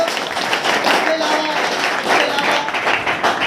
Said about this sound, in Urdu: تو یقیناً آپ بھرپور تالیاں بجائیں سر سیف الرحمان صاحب کے لیے۔